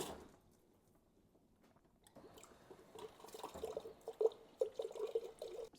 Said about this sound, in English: you're going to want to run water for about 2 to 4 minutes.